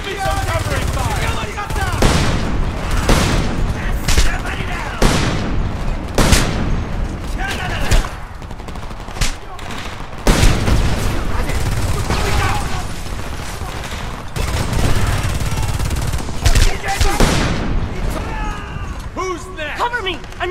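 Sustained gunfire fills a Homefront video game firefight, with rapid automatic bursts, sharp single shots and occasional booms overlapping continuously, while soldiers shout over the battle.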